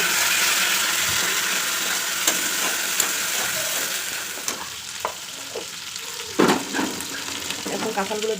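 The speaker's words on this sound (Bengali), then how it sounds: "মশলাগুলো ভাজা ভাজা করে কাঁঠালগুলো দিয়ে দিলাম" Spices sizzle and fry steadily in a pan for jackfruit biryani, a continuous close hiss broken by a few sharp clinks and scrapes of stirring toward the end.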